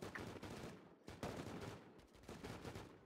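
Rapid bursts of gunfire in the survival video game Rust, several loud volleys in quick succession broken by a brief pause, dense and continuous like a fusillade during a base raid.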